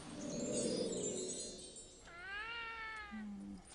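A cat lets out one drawn-out, rising-and-falling meow partway through, clear and close, after a stretch of muffled background sound.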